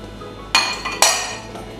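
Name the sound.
pouring strawberry cubes and sugar into a bowl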